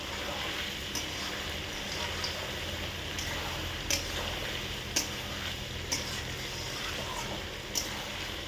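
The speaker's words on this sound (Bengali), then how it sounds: "মাংসটাকে একটু ভেজে নেওয়া হবে।" Pieces of country chicken sizzle steadily in a pan, a continuous moderate frying hiss broken by occasional faint clicks of stirring.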